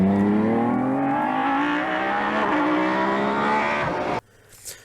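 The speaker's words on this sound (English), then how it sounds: "So instantly from the front now you hear this completely different sound when the car revs up." A car engine revs up from the front, a deep bass engine note climbing steadily in pitch for about four seconds before cutting off abruptly into quiet.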